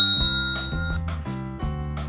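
A bright chiming bell effect rings out in several successive tonal strikes, each ringing on briefly, loud and close with no voices.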